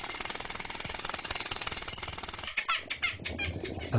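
A pneumatic drill hammers loudly and continuously, then breaks into shorter, choppy bursts near the end.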